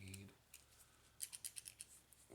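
Scissors snip hair samples close up in a quiet room, a quick run of six or seven crisp metallic cuts in a row.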